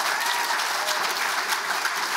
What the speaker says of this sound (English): Can we get a massive round of applause for Grace Bigby on the fiddle?